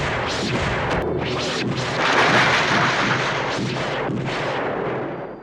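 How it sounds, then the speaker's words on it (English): Laser rifle fire from the sci-fi series V, a loud barrage of harsh cracking bursts that overlap in rapid succession, tearing and booming without pause before fading out at the end. "These things cracked, like they were tearing a hole through the air every time they fired."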